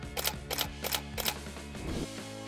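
Four crisp mechanical clicks like a camera shutter, evenly spaced, followed by a softer whirring click, all fairly quiet with no voices; a lyrebird imitating a camera shutter.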